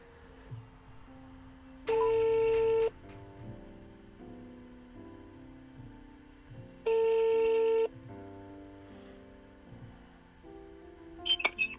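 A telephone call rings out unanswered, two long, loud synthetic ring tones spaced about five seconds apart over a faint background hum, with a short beep near the end.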